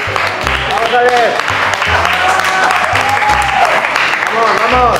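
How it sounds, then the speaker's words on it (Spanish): Applause and cheering from people watching a giant burrito eating challenge in Tijuana, continuous and close, with loud shouting voices over it throughout. "¡Aplauso!"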